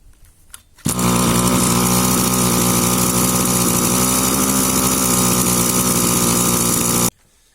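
A Rovan Sports 36cc double-ring two-stroke Baja RC car engine starts and runs at a steady, buzzy idle, loud and close, holding an even high-pitched drone for several seconds before cutting off abruptly.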